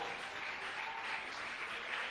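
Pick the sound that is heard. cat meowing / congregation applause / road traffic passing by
congregation applause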